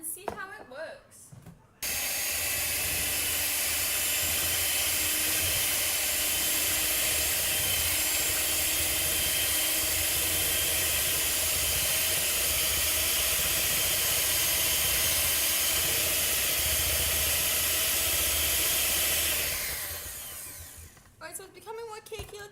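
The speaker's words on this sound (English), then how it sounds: "And we're going to mix this up and see how it works." An electric mixer whirs steadily through chocolate cake batter made with vegetable oil, a loud, continuous motor hum lasting about twenty seconds before winding down and stopping, with brief handling noise at each end.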